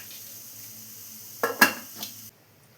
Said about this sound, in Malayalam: ഇനി നമുക്കിതൊന്ന് മൂടി വെച്ച് വേവിച്ചെടുക്കണം.